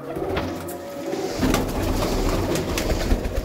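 Pigeons in a loft or coop, with repeated soft cooing and low rustling throughout, close and steady over faint background noise.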